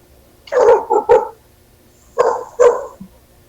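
A dog barks twice in two quick pairs, loud and close, with a pause between the pairs, and no talking.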